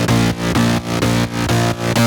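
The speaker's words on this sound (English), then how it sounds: "I added this tape stop effect on the mid bass" A dense EDM mid-bass line treated with a tape stop effect, filling space in a drop while the lead rests; loud, chopped pulses repeat in a steady rhythm, each briefly dipping out before the next, with no voices.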